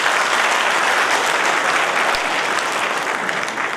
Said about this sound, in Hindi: अब तालियां तो बजाओ यार, क्या करें।